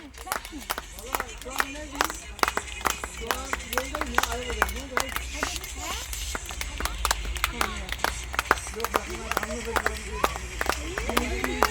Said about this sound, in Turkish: Hadi alkış yapın hadi.